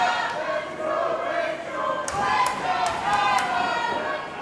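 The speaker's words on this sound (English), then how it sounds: "Raychell and Nyla dueling chants from the crowd here tonight." A wrestling arena crowd chants in rhythmic, evenly split dueling calls for two women wrestlers, with sharp ring thuds cutting through and an announcer talking over it.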